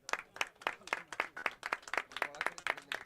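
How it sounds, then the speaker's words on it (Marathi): An audience at a felicitation ceremony during a village sports tournament claps in a fast, steady rhythm of distinct hand claps, loud and close, with no voices over it. "आता मात्र टाळ्या जोरदार वाजल्या पाहिजेत"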